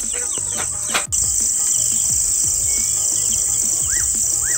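A steady high insect drone fills the background while a bird gives a few odd rising, looping calls, moderately close, with no one talking.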